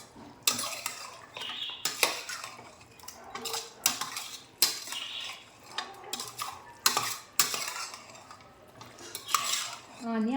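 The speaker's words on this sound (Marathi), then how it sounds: "पेस्ट चिकनमध्ये व्यवस्थित मिक्स होईपर्यंत चिकन अशा प्रकारे हलवून घ्यायचे." A spoon stirs chicken pieces through spice paste in a metal pan for village-style chicken sukka, giving repeated close scrapes and clanks against the pan with a faint sizzle underneath.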